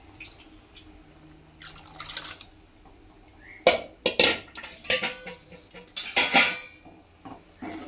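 Hot water poured into a cooking pot with splashy bursts and clinks of metal cookware, quiet at first, then louder intermittent pouring and sloshing.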